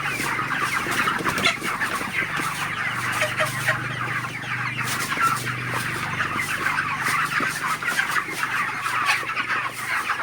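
A dense flock of broiler chickens clucks and murmurs continuously inside a poultry shed during hot weather, a steady crowded chorus of overlapping calls with no talk.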